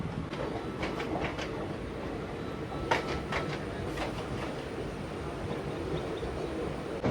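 A Kolkata to New Jalpaiguri train rolls along the rails in West Bengal, a steady loud rumble inside the carriage with repeated clickety-clack wheel beats over rail joints, no voices.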